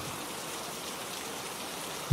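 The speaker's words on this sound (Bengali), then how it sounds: "অনেকক্ষণ ধরেই বৃষ্টি পড়ছে ঝমঝমে বৃষ্টির শব্দ শুনতে শুনতে নেশা লেগে যায়" Steady, dense hiss of rain falling at night, continuous and even at close range with no voices, ending in a sudden louder low thump.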